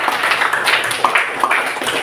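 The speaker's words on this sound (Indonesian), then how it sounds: "Iya betul, beri tepuk tangan." Scattered clapping from a small classroom group, uneven and fairly close, with a few sharper claps standing out over roughly two seconds.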